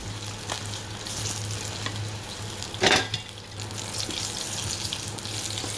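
Koi fish (climbing perch) sizzling in a pan over a steady, even frying hiss that continues throughout, with one brief louder splash or clatter midway.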